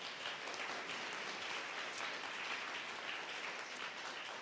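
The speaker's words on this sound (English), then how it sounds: "Another round of applause." A conference panel audience gives a round of applause. The steady, distant wash of many hands clapping is fairly quiet, with no talk over it.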